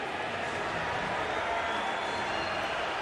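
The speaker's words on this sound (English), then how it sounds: "Crowd is amped for this one." A large arena crowd at a Bellator 292 MMA event roars in a dense, continuous wash of cheering and clapping that stays loud and steady throughout.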